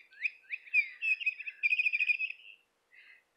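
A chirping toy bird for a pet gives bright, rapid tweeting trills in quick bursts, clear and close against near silence, with a brief pause before a final short chirp.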